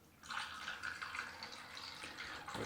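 Liquid remjet-removal chemistry poured into a film developing tank while processing Vision3 200T motion-picture film, a soft steady splashing trickle lasting a few seconds, faint and close, with no talking.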